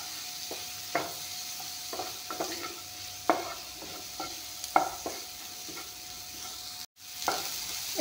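Tomatoes frying in a pan for a tarka, with a soft continuous sizzle under repeated scraping and clinking stirs from a spatula at an irregular pace, close and moderately loud, with no talk.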